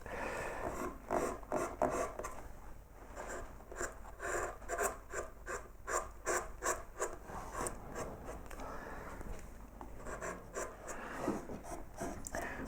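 A hand tool carves wood, flattening the back of a peony-like flower in a floral swag, giving quiet, close scraping and rasping strokes in an uneven, repeated rhythm.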